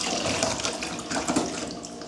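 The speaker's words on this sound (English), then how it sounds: "the water is boiling right now" Water boils in a cooking pot for crabs, a continuous close hissing and bubbling rush with no talk over it.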